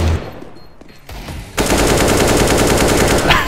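Rapid gunfire erupts in the video game CS:GO, a few scattered shots followed by a sudden dense, continuous burst of loud, close cracks that lasts to the end.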